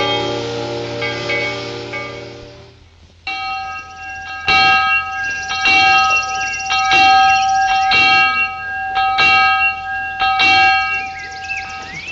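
A bell being rung at a railway station, likely a hand or station bell, sounds in a series of loud, ringing strikes with long overlapping tones, after an earlier sustained musical chord fades out.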